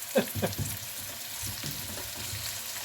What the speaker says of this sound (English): Alright guys, let's add the sausages in there.